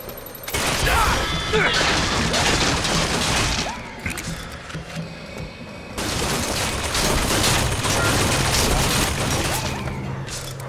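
Bursts of gunfire in the video game Bioshock Infinite crackle in dense, loud volleys with crashes and clanks, dropping briefly before the shooting resumes just as heavily.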